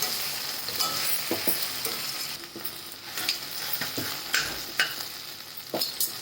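Okra for a garlic masala dish cooks in a pan with a soft, steady frying sizzle, broken by repeated scraping stirs and light spoon clinks against the pan.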